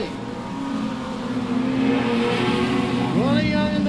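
Ford and Holden touring race cars at Archerfield rev along the main straight, a steady mid-pitched engine drone with a rising gear-change whine near the end, under a race commentator's voice.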